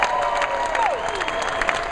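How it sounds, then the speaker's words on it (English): A crowd applauds and cheers at a big check presentation, with continuous clapping mixed with a few whistle-like tones and scattered voices, holding a fairly even level throughout. "Clap it for the folks."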